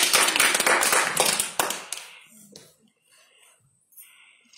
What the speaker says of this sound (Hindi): मधु के लिए ताली बजाइए।